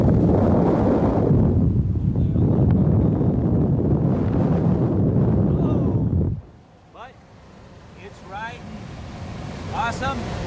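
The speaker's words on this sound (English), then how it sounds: "It's not making any noise other than the wind." Heavy, blustery wind roar buffets through an open truck sunroof while driving, loud and steady for several seconds before dropping off sharply to a quieter rushing hiss with a voice talking over it.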